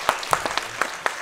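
Applause welcoming a guest athlete at a diaspora film festival talk: a handful of scattered, separate hand claps, close and moderately loud, over about a second, with no one speaking.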